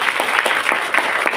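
An audience claps steadily, a dense, bright patter of many hands at a motivational business event, loud and unbroken with no voices over it.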